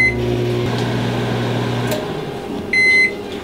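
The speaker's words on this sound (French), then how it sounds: "Micro-ondes." A microwave oven hums steadily while reheating a small meatball on a plate, the drone fading out near the end before a loud beep sounds at the finish.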